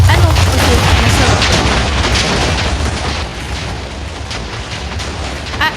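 Loud rumbling TNT blast in the video game Minecraft, a dense roaring burst that gradually fades, with faint crackling debris afterward.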